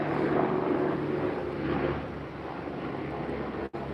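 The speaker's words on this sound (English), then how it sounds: "got a helicopter flying by." A helicopter flying overhead, its steady broad rumble and whir filling the whole stretch, loud and continuous with a gradual slight fade and one brief dropout near the end.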